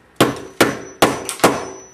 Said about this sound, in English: a real hammer, and give it a nice couple of whacks